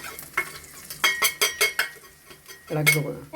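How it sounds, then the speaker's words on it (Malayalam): Onions and spices such as chilli and coriander powder are stirred in a hot pan for fish curry, with a series of loud, close spoon scrapes over steady sizzling frying and a louder sizzle burst near the end. "നല്ലോണം ഒന്ന് ഇളക്കി കൊടുക്കുക."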